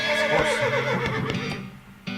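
A horse in the western video game West of Loathing lets out a loud, harsh neigh that rises and then trails off, followed by a short burst of game sound near the end.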